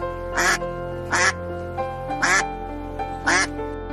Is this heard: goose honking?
yes